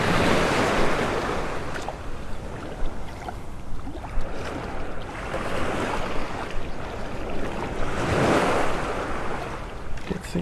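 Rough ocean surf rolls onto Pelican Bay Beach in North Naples, Florida, with waves breaking and washing in repeated surges beneath steady wind buffeting the microphone.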